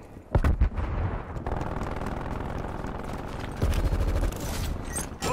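A Semtex grenade going off in Call of Duty Black Ops Cold War free-for-all play, heard as sharp loud blasts near the start and again later, set against steady gunfire and game noise, with no talk.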